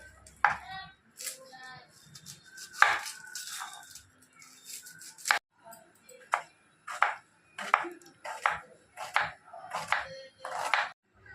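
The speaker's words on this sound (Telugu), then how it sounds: "ఇదిగోండి, మటన్ కట్ చేసుకుంటున్నాను" A knife chops mutton on a board for Sunday mutton curry and biryani, landing a series of sharp, close thuds that come irregularly at first and then settle into a fairly steady rhythm.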